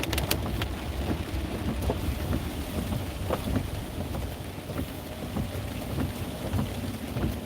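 Steady heavy rain pours down during a flash-flood storm chase, with low rumbling thunder running beneath it and scattered sharp raindrop hits throughout, dense and continuous with no voices.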